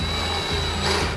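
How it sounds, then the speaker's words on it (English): A power drill runs steadily for about a second, driving and tightening a screw during installation of an Extend a Roll, with a continuous motor whine and no pauses. "like I like to do, use my drill bit"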